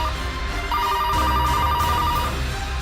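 A telephone rings indoors with a steady, loud electronic ringtone that holds a tone and shifts pitch partway through, heard alone with no voices.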